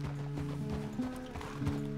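Horse hooves clip-clopping in Red Dead Redemption 2, a steady rhythmic gait with a brief whinny, close and moderately loud with no talk over it.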